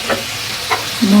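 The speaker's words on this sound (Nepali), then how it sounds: "अब म चलाउँछु यसलाई मजाले।" Fish curry frying in a pan on a gas stove, stirred with a utensil: a couple of brief soft scraping strokes over a low sizzle, close by, ending in a louder, sustained stir.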